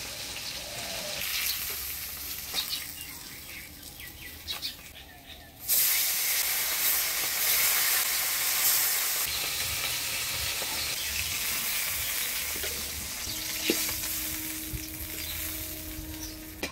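Prawns frying in hot oil in a home kitchen, a loud continuous sizzle and hiss that swells suddenly partway through and stays strong, with faint clinks and background noise, no talking.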